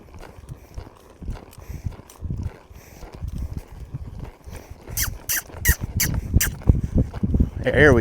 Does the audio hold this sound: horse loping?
yes